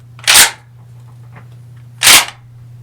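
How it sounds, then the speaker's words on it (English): A Maverick 88 pump-action shotgun being cycled after a Picatinny sight rail install, heard as two sharp, loud mechanical clacks about 1.7 seconds apart, close by with no talk. "go ahead and cycle the action a couple times to make sure that nothing is obstructing it inside"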